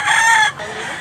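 Dragon Pumpkin Hatch gamefowl rooster crowing loud and close, a single strained, harmonic-rich crow that breaks off abruptly halfway and trails into a quieter tail.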